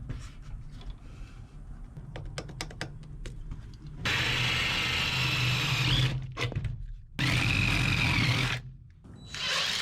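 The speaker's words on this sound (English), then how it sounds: "Drilled those out to 1/4" A power drill bores holes out to 1/4 inch on a 1973 Chevrolet, with light tapping and handling noises first, then two sustained whining drill runs separated by a short pause.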